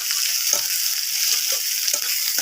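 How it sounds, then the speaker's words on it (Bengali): Onions fry in a pan with a loud, continuous hissing sizzle, close up, punctuated by several soft thumps of stirring. "পেঁয়াজটা ভেজে নিচ্ছি"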